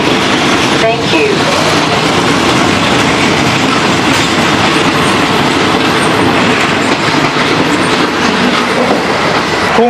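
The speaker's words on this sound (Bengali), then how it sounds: "কুংতেপ আপিভাত রেলওয়ে স্টেশন থেকে এই ট্রেনটা এলো কিছুক্ষণ আগেই" An express train on the Phuket to Bangkok route at Surat Thani station, heard as a steady loud rumble and clatter of rail cars with wheel noise, continuous throughout.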